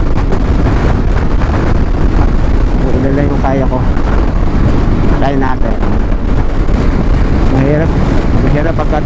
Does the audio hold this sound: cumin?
no